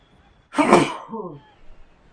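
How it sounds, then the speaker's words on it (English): A single sharp sneeze bursts out close by, followed by a brief breathy exhale. "I'm gonna sneeze again, I can feel it."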